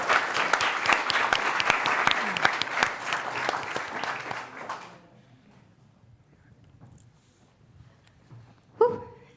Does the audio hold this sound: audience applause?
yes